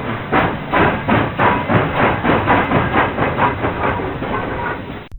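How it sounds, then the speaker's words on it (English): A train on the Chicago, Milwaukee, and St. Paul Railroad rolls along with a loud, close, rhythmic clickety-clack of wheels over rail joints, beating steadily with no talk. "Let's take a ride up the Chicago, Milwaukee, and St. Paul Railroad."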